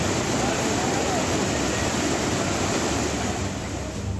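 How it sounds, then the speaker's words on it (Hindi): Monsoon floodwater carrying debris surges through a residential area in Ganderbal, Kashmir, a loud, steady, unbroken roar of rushing water. "पहाड़ में सैलाब के साथ मलबे का प्रहार और सब कुछ बहा ले जाने पर आमादा लहरें।"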